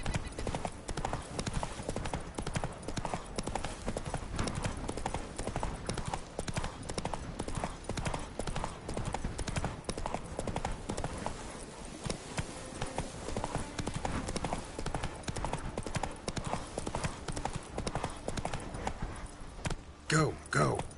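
Rapid rhythmic hoofbeats from Roach, the horse in The Witcher 3, galloping steadily and close for the whole stretch, with occasional game sounds and voices over it.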